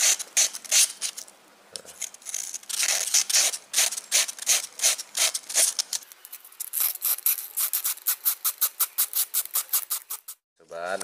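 Rotating a fishing rod blank against sandpaper to smooth it, a close, steady run of rhythmic rasping strokes that speed up into quicker, shorter rubs toward the end.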